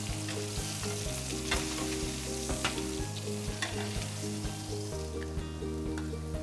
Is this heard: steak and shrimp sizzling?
yes